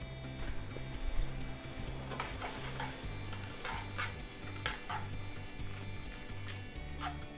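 Half-cooked pasta tossed with a Japanese-style eggplant sauce in a pan over high heat, a steady close stirring and sizzling with scraping clicks, under a repeating low background tone.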